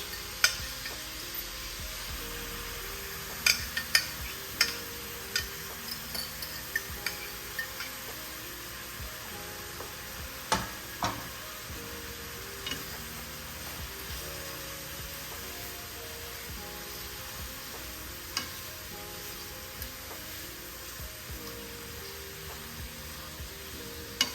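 Polish turkey sausage sizzling in a pan, a steady frying hiss with scattered clicks and scrapes of stirring over about twenty seconds.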